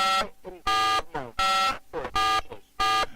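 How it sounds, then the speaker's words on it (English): A phone is tapped during a call on a radio talk show, producing a run of about six loud electronic beeps in an uneven rhythm, with no talking. "you're tapping your phone at the same time"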